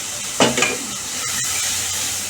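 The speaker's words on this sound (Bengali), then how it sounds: "আমি আলুগুলো এবার একটু দিয়ে এর সঙ্গে কষিয়ে নেবো" Potatoes go into a pan with green banana to be sautéed, producing a sudden loud burst of sizzling that settles into a steady hiss.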